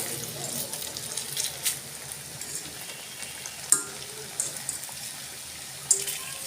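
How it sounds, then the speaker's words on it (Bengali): Food frying in a pan during home Ramadan cooking, a soft, steady sizzle with light stirring and a few sharp clinks of utensils, fairly quiet and close. "এভাবে আমি আরও একবার আপনাদের ভেজে দেখাচ্ছি"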